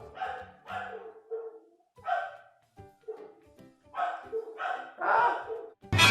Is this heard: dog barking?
yes